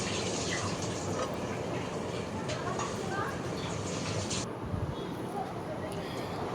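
Tap water runs steadily while cut vegetables are washed in a home kitchen, a continuous splashing hiss that stays fairly quiet throughout.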